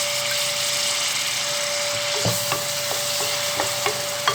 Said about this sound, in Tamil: இந்த வெங்காயம் ஓரளவுக்கு வதங்கி வரட்டும்.